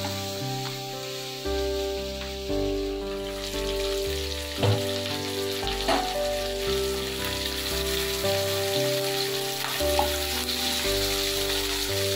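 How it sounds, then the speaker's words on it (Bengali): Chicken frying in a pan, a continuous hissing sizzle with occasional stirring knocks, heard over a low, steady tonal hum from a nearby appliance, no voices. "চিকেনটা ভেজে নিলেই হয়ে যাবে"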